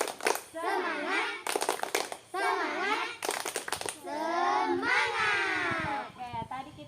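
A class of children does a cheer clap, sharp rhythmic bursts of hand claps alternating with loud chanted group calls, with the children's voices running throughout.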